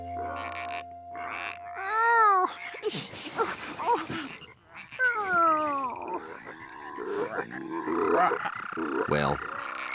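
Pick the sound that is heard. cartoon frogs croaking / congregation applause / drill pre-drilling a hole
cartoon frogs croaking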